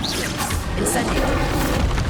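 A fire spell cast in the Hogwarts Legacy video game on PS5 bursts into a dense, roaring whoosh with a loud low boom that fills the short moment, continuous and close.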